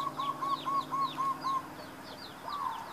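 Jungle fowl in Hawaii calling with a string of short, repeated clucking notes in a steady rhythm, joined by faint higher chirps from smaller birds, all at moderate distance over a low background hum.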